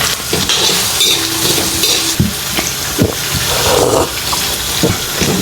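Garlic and onion fry in melted beef fat, giving a loud, steady sizzle throughout with occasional scraping knocks of a stirring utensil.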